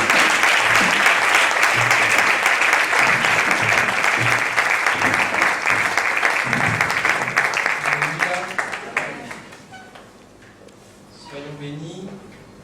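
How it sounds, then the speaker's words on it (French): A church congregation at an evening service applauds its preacher with loud, dense clapping that carries for several seconds, then thins and fades out as voices rise briefly. "Est-ce que nous pouvons acclamer notre prédicateur?"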